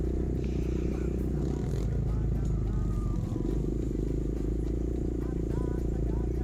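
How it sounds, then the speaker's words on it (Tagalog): A Scale X150 trail motorcycle with upgraded front shocks hums along steadily at low pitch, riding on a dirt trail through banana groves, with someone talking over the engine throughout. "itong gamit na motor is Scale X150"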